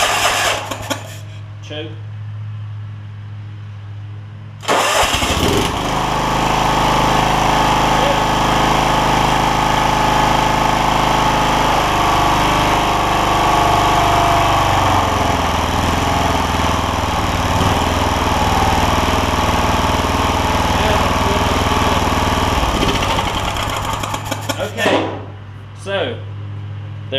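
The Kawasaki FC420V engine on a John Deere LX172 lawn tractor cranks briefly, then catches and runs at a steady loud roar for about twenty seconds. It shuts off near the end, with a short spoken word early on.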